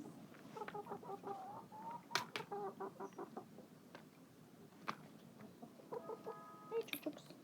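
Backyard hens cluck and murmur in a series of short, soft calls with a few sharper squawks. They sound close but quiet against a calm outdoor background.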